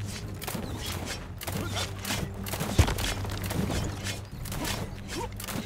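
Scattered musket volleys crackle across a battle in the strategy game Diplomacy Is Not An Option, repeated bursts of fire layered over a dense, busy din with one sharper crack standing out midway.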